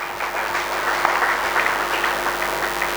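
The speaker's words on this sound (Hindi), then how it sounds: "ताली तो बजा दी" An audience at a spiritual satsang for the Guru Purnima festival in Farrukhabad claps together in steady, dense applause that fills the hall at an even, fairly loud level.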